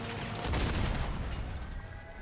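Rapid shotgun fire from armored vehicles in the Crossout combat game, a dense burst of overlapping blasts that swells in the first second and then rumbles on steadily, loud and continuous, without talk.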